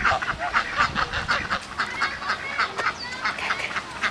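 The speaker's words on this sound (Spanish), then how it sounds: "¿Cómo hace el pato? Cuac, cuac." Ducks being fed quack loudly and repeatedly in quick, uneven bursts, close by, with no talking.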